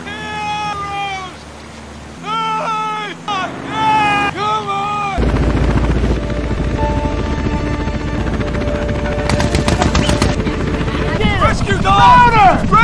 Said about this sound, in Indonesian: helikopter pun segera dikerahkan untuk menyelamatkan Dieter